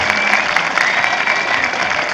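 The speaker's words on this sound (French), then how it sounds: "j'aimerais qu'on les applaudisse bien fort" Dense, steady applause fills the hall from a crowd at a hip hop culture event at La Carène in Brest, a continuous wash of many hands clapping together.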